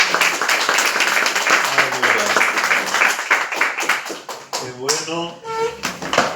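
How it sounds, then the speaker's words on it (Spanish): A church congregation claps for the Lord in a steady, rhythmic burst of hand claps, loud and close, with voices talking and calling out over the clapping throughout. "Un aplauso al Señor"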